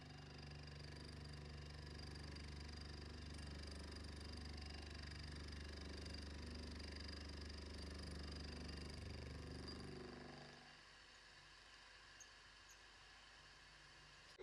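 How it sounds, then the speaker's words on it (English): A 7/64 end mill cuts a brass slide valve on a workshop milling machine, a steady loud whirring drone with a high machining whine that runs for about ten seconds, then the cutting noise drops away to a quieter motor hum. "This clip shows me milling the slide valve"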